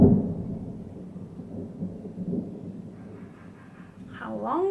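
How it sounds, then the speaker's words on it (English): Low, rolling thunder rumbles through a darkening evening thunderstorm, a sustained heavy grumble that swells near the start and again toward the end, with a voice briefly audible at the close. "How long does that thunder want to go on for?"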